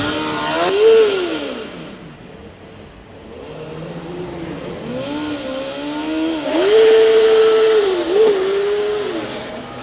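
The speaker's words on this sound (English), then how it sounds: "Nice colors on the exhaust manifold, and a lot of noise, combustion." A Formula Student combustion race car accelerates hard with a loud, rising engine note that climbs in pitch through gear changes, dipping between shifts and surging again, heard close and alone without talk.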